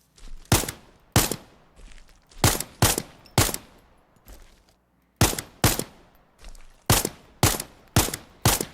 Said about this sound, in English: let's take a listen to this rifle with no suppressor.